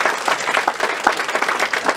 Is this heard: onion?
no